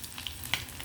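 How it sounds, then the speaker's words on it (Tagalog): Tamban fish frying in hot oil, a faint steady sizzle with two sharp pops of spattering grease, no talk. "Nagpiprito tayo ng"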